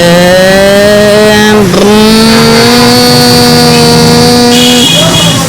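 A car engine in the Extreme Car Driving Simulator game revs hard and steadily at full speed, its tone climbing, briefly dipping as the gear shifts, then holding high and loud before easing off near the end.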